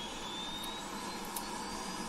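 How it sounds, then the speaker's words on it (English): The gas turbine starter of a Hawk T1/A jet trainer in a flight simulator spins up as a faint, steady whine and hiss. A thin rising tone runs under a constant jet-like roar, with no voices. "It's the little turbine that makes it possible to start the engine. So let that spin up."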